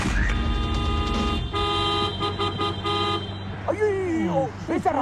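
A car horn blares in a comedy movie scene, with a sustained tonal honk over a low engine rumble and people speaking excitedly over it near the end.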